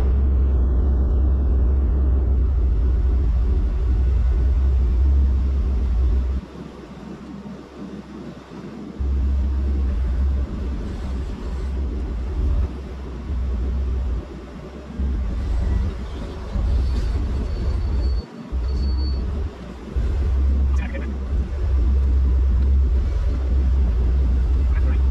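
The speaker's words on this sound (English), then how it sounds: "We got our 9-ton dumpers on site." Nine-ton site dumper trucks work on a construction site moving topsoil, their engines giving a steady heavy rumble that dips and returns as machines move nearby.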